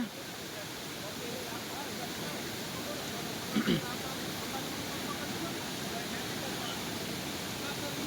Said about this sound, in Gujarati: પાણી એટલું વહે કે અહીંયા ઊભા પણ દેતું નથી.